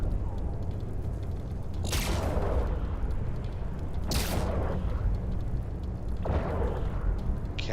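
Turret fire and blasts from a Punisher frigate fighting in EVE Online's Abyssal space, three sharp bursts spaced a couple of seconds apart over a steady low engine hum.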